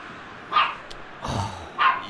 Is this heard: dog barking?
yes